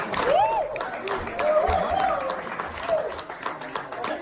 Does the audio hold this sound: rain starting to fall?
no